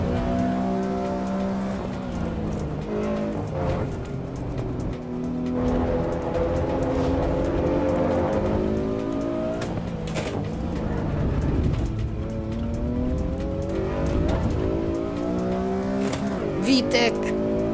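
A race car engine in Assetto Corsa Evo at the Nürburgring revs and drops repeatedly through gear changes, with rising sweeps and brief tire squeals, while someone talks over the engine noise.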